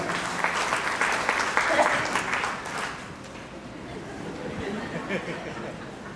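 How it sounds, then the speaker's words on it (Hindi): Applause from a youth camp audience in Amritsar, strongest in the first few seconds and then thinning out into chatter and light laughter. "तालियां"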